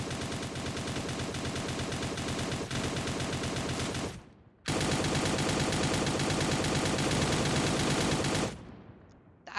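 Sustained automatic gunfire in a video game, rapid continuous bursts filling the mix for several seconds, a brief pause, then another long loud burst that cuts off near the end; almost no talking.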